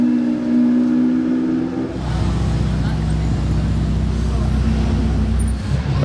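Lamborghini Aventador SVJ and Huracán Performante engines rev loudly at close range at a Top Marques Monaco car show, a steady deep roar that swells after a couple of seconds with street noise around it.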